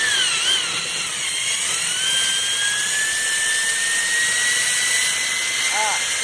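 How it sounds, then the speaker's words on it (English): A drill bores out a rivet on a 1990 Volvo 740 sedan door panel with a steady high-pitched whine, close and constant, with a brief shift in pitch near the end. "All it's doing is drilling a very smooth cone-like hole into it"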